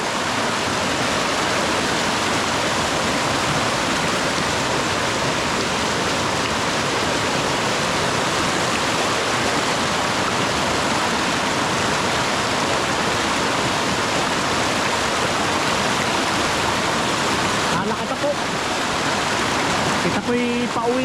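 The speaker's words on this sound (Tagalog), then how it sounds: "at gawa ng lalaki po ang tubig palaki-palaki" A mountain river swells during heavy rain and rushes with a loud, unbroken roar for the whole stretch. A faint voice briefly breaks through near the end.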